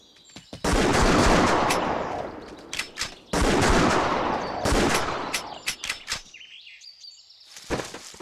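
Booming rifle gunshots in a Wii deer hunting game, two big blasts with long rolling echoes, then scattered sharper cracks and small hits that fade toward the end.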